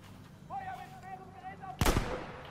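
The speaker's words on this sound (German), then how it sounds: "Mann, ist die Sniper gut." One heavy, close sniper-rifle shot from the Battlefield V campaign booms near the end, after a stretch of in-game ambience and whistling tones, with faint talk underneath.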